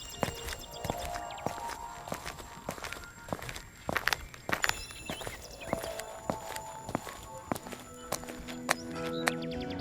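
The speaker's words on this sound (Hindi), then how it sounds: "उस शाम वीरान अपने जादुई घोड़े नक्षत्र को नदी किनारे टहला रहा था" Cartoon horse hooves clop at a steady walking pace for the whole stretch, with faint birds chirping behind, as a magical horse is led along a riverbank.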